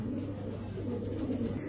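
Pigeons coo steadily at a fancy pigeon market in Bangladesh, soft repeated low burbling calls close by and continuous through the short stretch with no talking.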